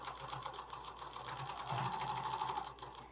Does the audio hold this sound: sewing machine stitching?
yes